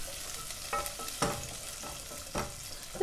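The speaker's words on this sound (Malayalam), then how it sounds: "ഇപ്പം ഞാൻ അതിനകത്തേക്ക് സവാളയും കൂടി ചേർത്ത് കൊടുത്തു" Chopped onions with garlic sautéing in a pan for butternut squash soup, a soft steady sizzle broken by a few louder stirring scrapes and clatters spaced through the moment.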